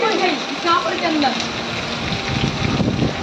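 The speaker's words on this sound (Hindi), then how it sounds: "बहुत तेज़ बारिश हो रही है" Heavy rain pours onto a road with wind, a steady wash of hiss and patter under a person talking throughout.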